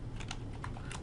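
Quick keystrokes on a computer keyboard entering a command at a command prompt, a brief run of soft, close clicks over a steady low room hum.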